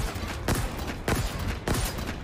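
Mangler gun shots fired in a competitive shooter match, three loud broadband blasts spaced roughly half a second apart over a constant background of game noise.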